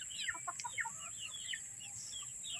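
Chickens cluck and peep softly in a quick scatter of calls, with a steady high-pitched whine running underneath.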